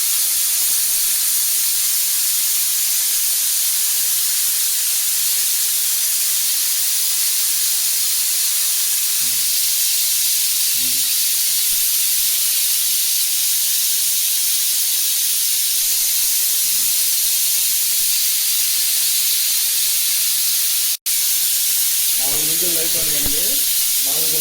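A pressure cooker of dal with tamarind leaves on a high flame releases a loud, unbroken hiss of steam that runs throughout, with a brief voice speaking near the end.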